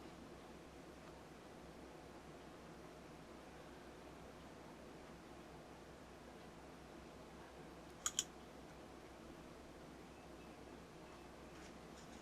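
Two quick mouse clicks in close succession, a double-click opening a Visual Studio solution file, sharp and brief against a quiet background hiss.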